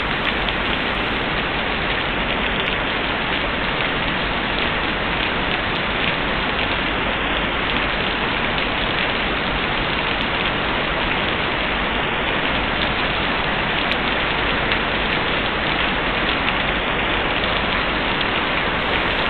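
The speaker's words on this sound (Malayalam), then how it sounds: "കനത്ത മഴ പെയ്യുന്നു" Heavy rain pours down steadily at Mundakkai, recorded by a church CCTV camera, a dense unbroken roar of drops hitting surfaces, loud and constant from start to finish.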